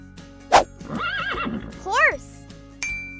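A horse neighs in a loud, wavering whinny with a rising-and-falling pitch, preceded by a sharp click and followed by a second short squealing call, close and clear over a steady background hum.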